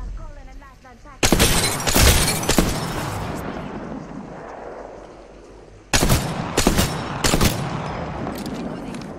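Heavy automatic gunfire in Apex Legends crashes in two loud bursts of rapid shots, the second volley stuttering in short rattles, with game ambience and a voice talking in between.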